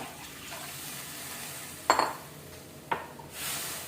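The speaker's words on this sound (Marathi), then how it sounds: "हलवून घेऊया सुंदर प्रकारे" A spoon stirs a thin horse gram flour curry in a pan, with two short utensil clinks against the pan over a low kitchen background.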